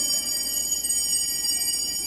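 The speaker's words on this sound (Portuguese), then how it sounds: "por que o padre toca o sino na hora mais sagrada da comunhão?" A church bell sounding during the most sacred moment of communion at Mass, its steady high metallic ringing sustained and fairly loud throughout.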